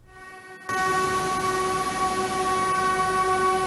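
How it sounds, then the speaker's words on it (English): A Puyuma Express train horn blares in a long, steady, loud tone for about 30 seconds after a brief quiet start, its harmonic pitches holding constant over rumbling rail noise. "the 408 Puyuma Express train sounds its horn for 30 seconds"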